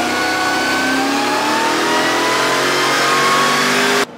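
Supercharged Mercedes E55 AMG with a Whipple blower revving hard on a dyno, a loud sustained engine whine climbing steadily in pitch for about four seconds before cutting off abruptly.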